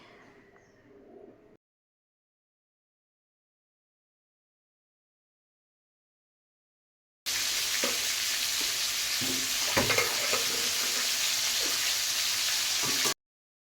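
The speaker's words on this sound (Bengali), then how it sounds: "আলুগুলোকে হালকা হালকা লাল লাল করে ভেজে নেবো" After a long stretch of silence, potatoes fry in oil with a steady close sizzle and occasional stirring clatter.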